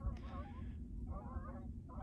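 Geese honk in short nasal bursts, a couple of overlapping calls with a pause between, over a low background rumble.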